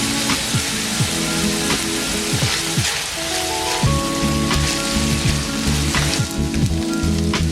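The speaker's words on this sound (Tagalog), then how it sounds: "una nating igisa ang sibuyas. Isunod natin ang nadikdik na bawang." Onion and crushed garlic sizzle steadily in hot cooking oil in a pan for pork lechon chop suey. The frying hiss is dense and continuous, with faint tonal background sounds underneath and no talking.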